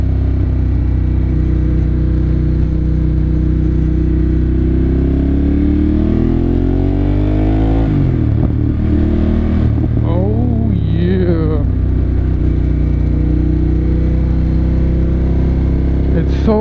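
A 2014 Ducati Monster 1200S engine drones loud and steady during a ride, with pitch rising and falling through gear changes and revs around the middle, while a rider talks over it.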